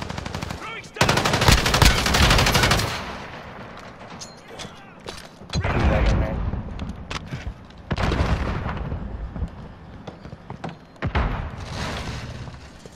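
Bursts of automatic gunfire and heavy shots ring out on the docks map in Call of Duty Modern Warfare, in loud clustered volleys separated by brief lulls and punctuated by booming impacts.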